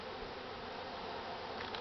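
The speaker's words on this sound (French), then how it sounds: "en faisant attention de ne pas écraser les abeilles qui sont là" Honeybees buzzing during a hive frame inspection, a steady close swarm drone that holds evenly throughout without any voices.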